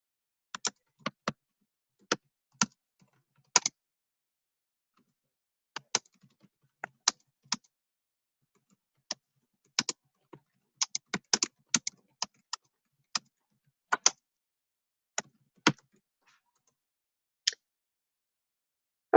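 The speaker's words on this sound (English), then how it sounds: "So I'm just going to type that in" Sparse, crisp clicks of typing on a computer keyboard, single and clustered keystrokes tapping out in irregular bursts against near silence.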